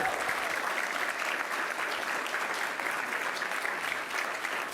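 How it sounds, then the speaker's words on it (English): Steady, dense applause from an audience at a state government infrastructure announcement, an even roar of many hands clapping that holds for nearly five seconds at moderate, distant level. "Let's give a huge round of applause to Catherine Garcia"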